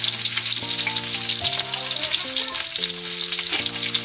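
Green chillies fry in hot oil, a bright continuous sizzle with crackling, heard close, while background music plays underneath.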